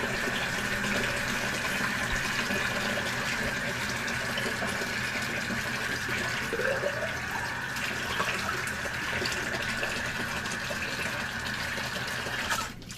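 Hot tap water runs steadily into a hose filled with bleach for an aquarium water-change system, a constant rushing hiss with no pauses and no talking.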